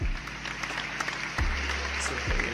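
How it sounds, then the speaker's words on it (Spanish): Continuous clapping from a group, steady and fairly loud, with a low hum underneath and no voices. "Un aplauso para Sofi que estuvo ahí."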